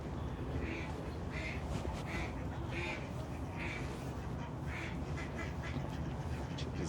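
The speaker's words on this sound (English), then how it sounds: "Check these ducks out." Ducks quack repeatedly in short, raspy bursts of calls, fairly close, over a steady background of outdoor noise.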